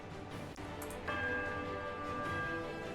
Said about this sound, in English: So the bell sounds a strange warbling peal that grows to a painful shrillness, before it diminishes to a mournful chime.